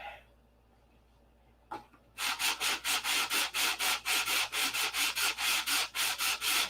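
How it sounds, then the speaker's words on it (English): Sanding the wooden wings of a P-47 model airplane, a quiet start followed by a brief scrape, then about twenty rhythmic back-and-forth rasping strokes, close and steady, with no talk. "Next comes all the sanding on the wings."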